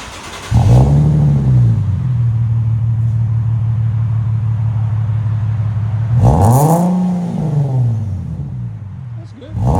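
A 2012 Infiniti G37 with a 3.7L V6, HK5 mufflers and resonator delete, sits at a throaty idle, then revs hard once near the end, loud and close.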